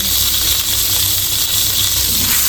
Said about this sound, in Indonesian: Kita masukkan bawang ya teman-teman, bawang putih cincang dan bawang bombay.